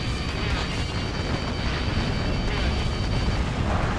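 Explosions in the jet combat game Ace Combat Infinity make a dense, continuous roaring rumble, loud and steady with no distinct separate blasts.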